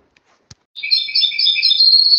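A Moroccan goldfinch sings the third phrase of its song: a bright, rapid run of high twittering notes that starts after a couple of faint clicks and then flows on continuously, loud and close.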